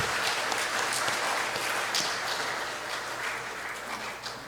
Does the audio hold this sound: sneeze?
no